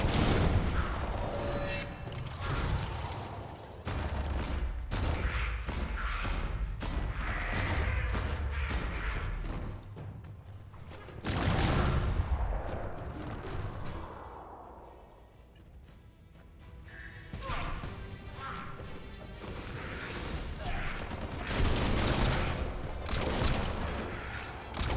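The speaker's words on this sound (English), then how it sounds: "Bullets everywhere." Gunfire rattles through a Biomutant battle in dense, repeated bursts with heavy booms and crashes, loud and chaotic, easing briefly midway before building again.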